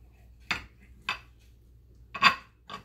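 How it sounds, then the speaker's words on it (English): A kitchen knife cuts boiled eggs down the middle, giving four brief, clear taps of the blade meeting the board, spaced irregularly against a quiet room, with the third one loudest. "I'm going to cut the eggs down the middle."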